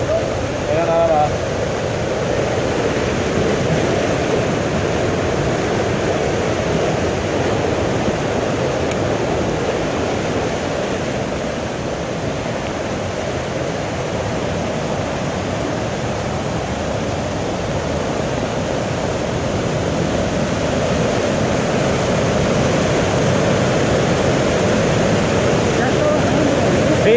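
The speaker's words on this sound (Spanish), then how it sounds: "Mira, hasta dónde llega el río." A storm-flooded river in the city of Colima rushes past in a loud, continuous roar of churning water, steady for the whole stretch, with faint voices now and then.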